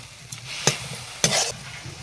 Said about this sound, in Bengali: আবার নাড়াচাড়া করে নেব।